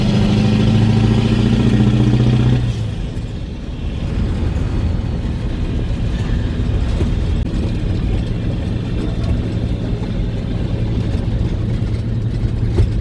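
A CAT-powered truck with a two-speed axle pulls up to speed, heard from the cab as a loud, steady, low engine drone that drops in pitch after an early gear change and then holds an even rumble.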